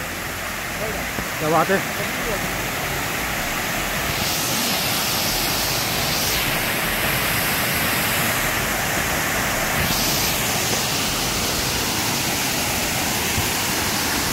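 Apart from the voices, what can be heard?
waterfall at Ghonsari village, Konkan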